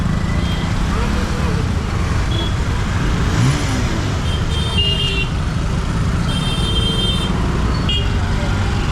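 Heavy, congested road traffic in Uran town: a loud, unbroken roar of car, bus and truck engines with repeated horn toots throughout, and voices mixed into the din.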